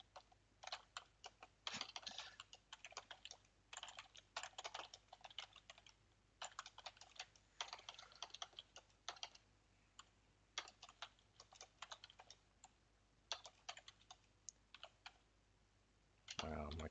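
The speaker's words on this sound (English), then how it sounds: "my keyboard playing up at the wrong time" Rapid keystrokes on a malfunctioning computer keyboard come in irregular bursts and pauses throughout, close and moderately loud, with a faint low hum underneath.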